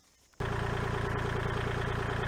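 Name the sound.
Kubota L2501 tractor engine idling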